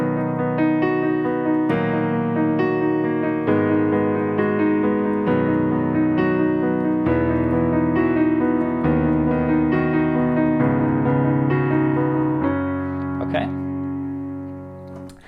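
Piano playing flowing right-hand arpeggios over sustained full chords in the left hand, steady and fairly loud, fading slightly at the end.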